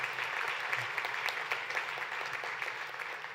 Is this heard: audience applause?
yes